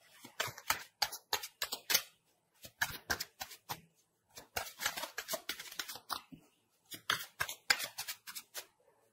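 Tarot cards are shuffled by hand in quick bursts of crisp riffling and flicking snaps, close and fairly quiet, with short pauses between runs and no talk.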